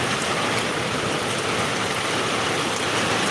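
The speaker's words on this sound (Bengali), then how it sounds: "আওয়াজ শুনুন মনে হচ্ছে সিল পড়ছে" Dense, steady pattering of small hailstones striking surfaces, a continuous loud hiss with no voices.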